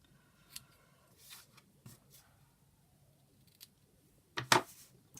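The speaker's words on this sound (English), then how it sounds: "Snip the ends off." Scissors snip the ends off paper for a small gift folio box, a few soft scattered cuts ending in one louder, closer snip near the end.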